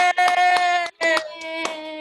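Performers backstage clap in a few quick, close bursts as voices whoop and cheer over them at fairly loud volume.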